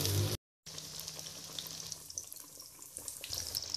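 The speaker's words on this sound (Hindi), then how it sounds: "देखिए ऑयल हमारा गर्म हो चुका है, अब इसमें हम कटलस डालेंगे और फ्राई करेंगे।" Potato cutlets coated in gram flour fry in hot oil, giving a steady close sizzle and bubbling hiss that runs throughout after a brief gap at the start.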